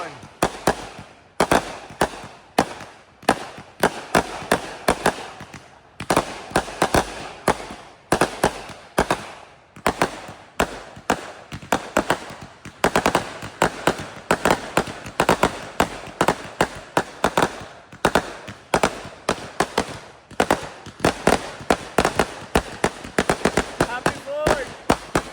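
Dense, rapid bursts of Fourth of July fireworks in the USA popping and crackling continuously, with some louder bangs, while people talk in the background.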